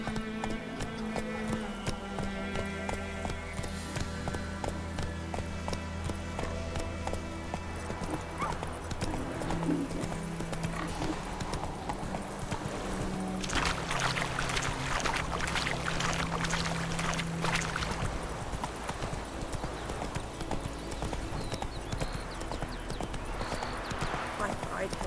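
Roach, a horse in The Witcher 3, clip-clops along in steady rhythmic hoofbeats with an occasional whinny, game music and ambient sounds underneath, while people talk intermittently over it.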